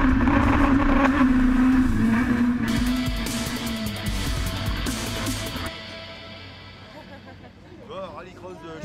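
A Renault Twingo Super 1600 rallycross car runs flat out on a circuit near the finish line, its engine droning loudly and steadily, then fading. Someone speaks over it throughout.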